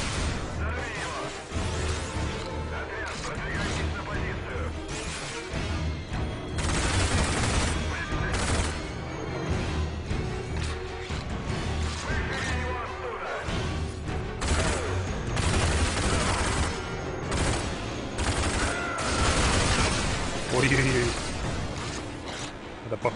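Enemy soldier gunfire in the shooter game Rage, dense repeated shots and crashing blasts filling the whole stretch at steady loudness, with game effects mixed in.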